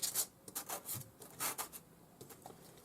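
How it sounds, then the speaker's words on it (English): Small metal pieces for a puffy heart lock rubbed on sandpaper on a workbench, a series of short, quiet rasping strokes in an uneven rhythm, close by and alone. "check that these are flat by rubbing them on a piece of sandpaper on your bench"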